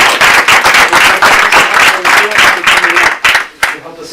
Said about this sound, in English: So really give her a big round of applause.